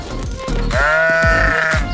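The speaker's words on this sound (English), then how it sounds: "The sheep are having a great time." A sheep bleats loudly and close by, a long wavering cry following a few shorter rough calls, with no other noise around it.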